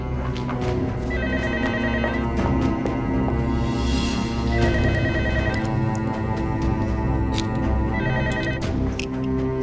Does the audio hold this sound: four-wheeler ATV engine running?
no